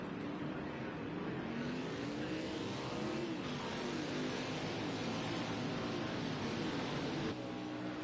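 A race car engine drones steadily at Sonoma during a Rockstar Energy Cup Series stock-car race in a racing video game, its pitch rising and falling through gear changes, with other cars roaring close around it.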